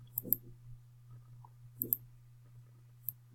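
Calculator keys being pressed, a few quick soft clicks in small clusters at close range over a steady low electrical hum, with no talking.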